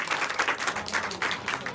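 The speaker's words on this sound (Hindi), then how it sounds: "ताली बजाओ, धन्यवाद दो परमेश्वर को।" Congregation clapping at a church service during a lay leaders training seminar in Delhi, a steady patter of many hands filling the room for under two seconds.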